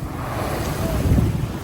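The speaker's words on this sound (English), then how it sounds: "The waves are breaking up the seawall about 3 meters, 2 or 3 meters high." Ocean waves break against a seawall at Sabang, Palawan, a heavy low rumble of surf swelling toward the end, buffeted by strong wind noise across the microphone.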